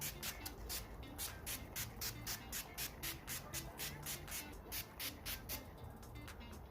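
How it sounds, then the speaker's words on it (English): Rapid, quiet pumps of a makeup setting spray bottle, around two dozen short hissing bursts in a steady rhythm, close up with no talking. "Spray my face with some setting spray"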